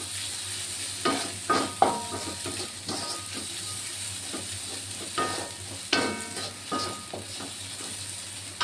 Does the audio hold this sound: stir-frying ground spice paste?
yes